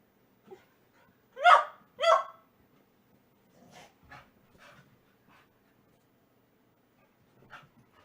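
A dog playing with a toy gives two loud, close yips, then a series of softer huffs, pants and brief bark-like breaths spread over several seconds with quiet gaps between.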